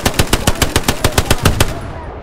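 Rapid automatic gunfire in the World War II shooter game Hell Let Loose, about a dozen loud evenly spaced shots in a quick burst that stops abruptly near the end.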